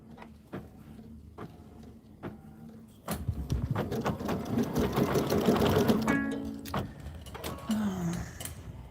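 An OESD embroidery sewing machine stitches a freestanding lace winter napkin, starting quietly with sparse clicks, then building into a steady, busy rapid stitching rattle that runs loud for several seconds before easing.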